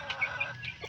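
Clucking from a large Rhode Island Red rooster of about four to five kilos on a poultry farm, a few short nearby calls in quick succession with no talk over them.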